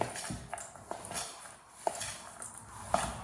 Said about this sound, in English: all we need to do is give that just a little mix in, and it binds beautifully